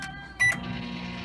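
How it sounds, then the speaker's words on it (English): Electronic beeps from a microwave's keypad, followed by the steady hum of the oven starting to run, close by. "Then you put them in the microwave."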